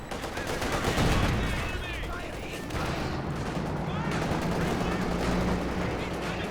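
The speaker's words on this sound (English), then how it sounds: "VonIvan's machine gun spinning around, but there's a Zis barrage landing on top of it" Gunfire and artillery in Company of Heroes 2, a machine gun burst mixed with a ZiS barrage landing on its position, dense and continuous with a heavy low rumble and sharper cracks, under a faint voice.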